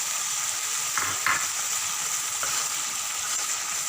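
Spices frying in a pan for dhaba-style dal makhani, a steady bright sizzle with a few soft scrapes of stirring, no voices.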